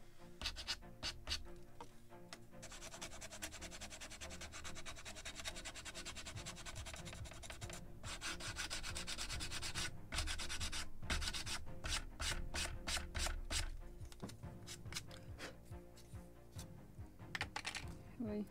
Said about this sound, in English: Just a little more sanding.